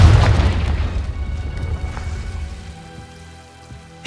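A Confringo fire spell blast in the video game Hogwarts Legacy, a loud booming burst at the start that rumbles and fades over a few seconds, with a sharp crack at the very end.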